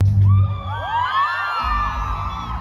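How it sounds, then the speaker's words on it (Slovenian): Teenage fans scream and whoop loudly in a dense crowd as a band takes the main stage of the Lent festival, with high shrieks layered over a continuous roar. "Oboževalke in oboževalci so jih sprejeli z glasnim kričanjem"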